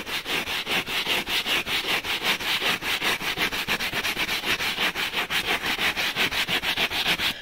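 An ordinary brush scrubs over foam in steady back-and-forth strokes, about four per second, producing close, loud, rhythmic rubbing with no talk over it.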